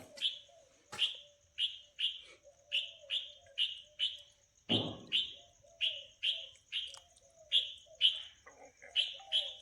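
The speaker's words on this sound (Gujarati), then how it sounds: "કેવા પક્ષી બોલે છે જોવો તો" Wild birds in Hingolgadh sanctuary give a steady series of bright, repeated chirping calls, about two per second, with a low cooing call beneath and one brief rustling burst partway through; no speech is heard.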